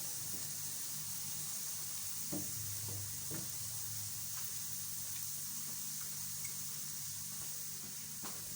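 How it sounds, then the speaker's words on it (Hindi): Onions frying until golden give a soft, even sizzling hiss at low level, with a few light knocks of stirring scattered through it. "प्याज को हमने गोल्डन फ्राई करना है।"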